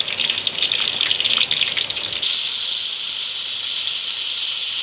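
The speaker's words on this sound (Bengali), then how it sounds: "এখন আমি একটা একটা করে তেলে দিয়ে দিব মাছ" Loitta fish pieces drop one by one into hot oil, setting off a loud, steady sizzling hiss that jumps brighter partway through and then holds constant, with no voices.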